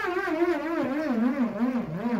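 A hexagonal metal nut whirls around inside an inflated rubber balloon, giving a loud, continuous rattling hum whose pitch wavers up and down as it circles, steady throughout with no talking.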